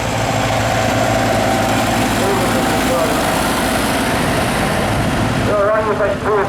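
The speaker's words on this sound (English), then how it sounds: "And we've got another big tractor here." A big vintage tractor engine runs at idle during an afternoon arena parade at a spring fayre, a loud, steady low rumble close by with a commentator talking over it.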